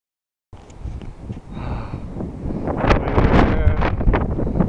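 Gusty wind blusters outdoors on a hike among volcanic cones on an island, rising into strong roaring buffets against the microphone with a brief voice heard early on.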